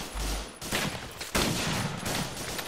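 Heavy continuous gunfire in a Vietnam-era war video game, a loud dense fusillade of overlapping shots with sharp bursts and a low rumbling undertone throughout, no voices heard.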